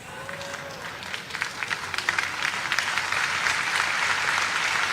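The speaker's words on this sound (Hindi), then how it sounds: "भाई ताली हो तो दमदार हो" Applause from an audience at an auto expo speech in Indore, a dense clapping crowd that starts moderate and swells louder, sustained through the whole stretch.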